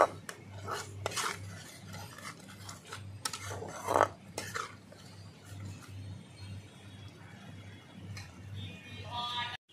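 A spice masala with yogurt is stirred and sautéed in a pan, giving soft scraping and clinking utensil strokes over a low steady hum, fairly quiet and close.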